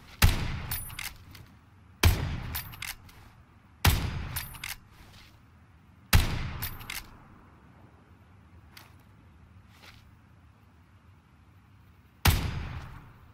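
A Winchester 94 lever-action rifle fires in the PUBG video game: five loud, sharp shots, spaced about two seconds apart with a longer gap before the last, each followed by a brief metallic lever rack and echo.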